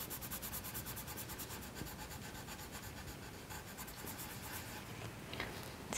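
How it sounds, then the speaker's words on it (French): A colouring pencil pressed hard onto paper makes a steady, close scratchy rubbing as it shades a drawing, with rhythmic back-and-forth strokes and no voice over it. "j'appuie bien sur mon crayon pour que la couleur soit bien forte"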